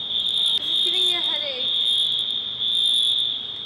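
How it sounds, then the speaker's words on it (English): A fire alarm sounds with a steady, piercing high-pitched tone that holds throughout, with brief dips, while a voice talks over it. "Fire alarm? Oh my god, is there a fire?"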